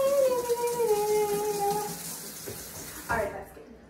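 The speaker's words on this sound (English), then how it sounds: "I feel like it needs to be rinsed with cold water." Cold tap water runs steadily over cooked noodles, a close, even rushing stream that thins and then cuts off near the end.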